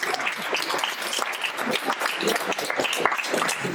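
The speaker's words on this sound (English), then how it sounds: "You can give the applause right now because this is the last slide." An audience applauds at the close of a sales talk, a dense, steady wash of many hands clapping in a room, fairly loud and sustained throughout without breaks.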